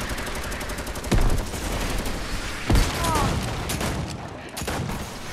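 Bursts of gunfire in the video game Fortnite, with a few sharp, loud shots standing out over a busy, continuous game soundscape.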